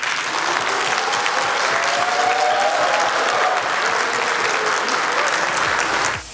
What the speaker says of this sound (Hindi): एक और सवाल के जवाब में हॉल तालियों से गूंज उठा।